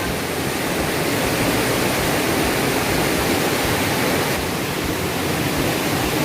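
The Chathanpara waterfall at Pannagam thodu makes a steady, loud, broadband roar of falling water that stays close and unbroken throughout, with no voices.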